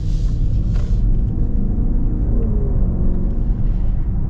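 Maserati Levante V8 Ultima, 2024, with a steady deep engine rumble heard from inside the cabin, continuous and fairly loud with no talk.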